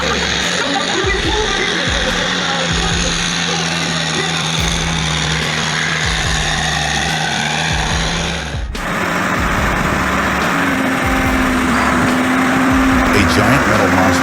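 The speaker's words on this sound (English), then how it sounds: "Its giant wheels spin desperately, the roar of its engines echoing in despair." An off-road truck engine roars loudly and steadily while stuck in mud at a competitive race, a continuous high-revving drone close by, with a sudden shift midway as the pitch and texture change.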